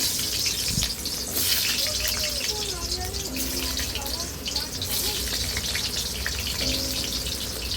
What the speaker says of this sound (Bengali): আলুগুলো দিয়ে দেবো, আলুগুলো ভেজে নেব।